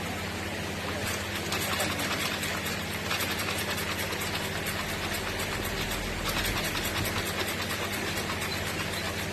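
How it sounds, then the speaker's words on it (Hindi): A sewing machine runs steadily while stitching the hems of an Afghani salwar, a continuous mechanical hum and rattle that stays even in level throughout. "अब हमने इसको पकड़ के स्टिच कर लेंगे"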